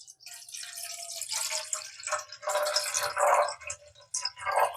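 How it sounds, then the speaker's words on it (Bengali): Water poured into a saucepan on a stove, a splashing trickle and drips in bursts of varying loudness, fairly near and with no voices. "এখানে সসপ্যানের মধ্যে আমি কিছু সামান্য পরিমাণ জল দিয়ে"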